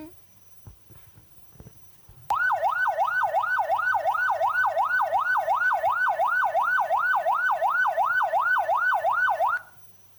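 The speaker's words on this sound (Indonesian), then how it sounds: "Itu ambulan membawa pasien kritis." Ambulance siren carrying a critical patient, a loud steady wailing sweep repeating rapidly for about seven seconds, close by, with faint voices beforehand.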